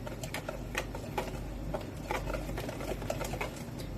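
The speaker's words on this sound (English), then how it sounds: "Okay, so we're going to whisk this together." Pancake batter being whisked by hand in a bowl, a quiet, steady patter of quick wire taps and scrapes with a low background hum, no voices.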